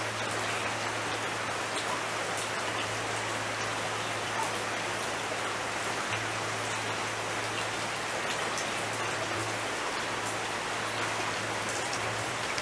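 Steady rain pours down without a break, a dense, even hiss of drops on surfaces with a low hum running underneath.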